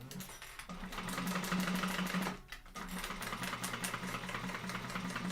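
A sewing machine runs an extra-long basting stitch through clear vinyl, a steady fast mechanical whir that stops briefly near the middle before starting again, heard alone without talk.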